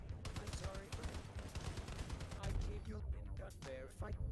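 Gunfire from the Crossout vehicle combat game, where an 88 cannon is in use, pops in a chaotic run of sharp bursts and impacts, with overlapping voices.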